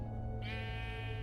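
A single Minecraft Story Mode sheep bleat, a wavering nasal call entering partway through and holding to the end over a steady background music drone.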